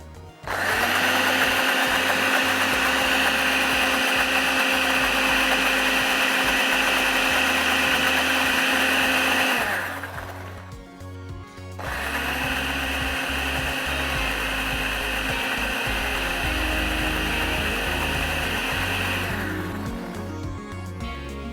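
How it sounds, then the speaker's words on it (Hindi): An electric blender whirs loudly while blending cooking oil into a spicy, tangy sauce, two long steady runs of high motor whine separated by a short pause, with no talking. "अब थोड़ा सा डालेंगे इसमें ऑयल और इसको कर देंगे ब्लेंड।"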